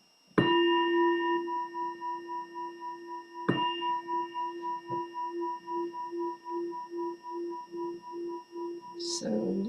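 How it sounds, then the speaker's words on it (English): A meditation bell is struck twice, about three seconds apart. Each clear ring sustains with a slow pulsing shimmer that fades gradually in a quiet room, and a brief faint sound follows at the end. "I'll let the bell invite us to come in and practice the meditation together"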